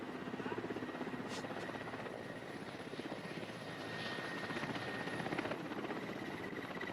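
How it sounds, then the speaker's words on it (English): A helicopter drones steadily nearby, its rotor thumping and engine whining without pause, with no other sounds on top. "a helicopter hovering in the treetops"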